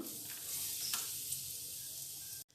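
Turmeric and tempering spices, bay leaf among them, sizzle steadily in hot oil in a pan, a close, continuous bright frying hiss with a brief stir near the middle before it cuts off.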